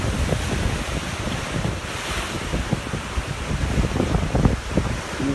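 Sea waves at Bangka beach, Indonesia, beside a rocky seaside hotel, wash in as a steady surf roar with wind rumbling over the microphone and occasional louder breaking splashes.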